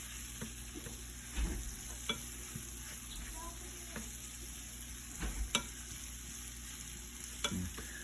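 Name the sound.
venison frying in pan with homemade butter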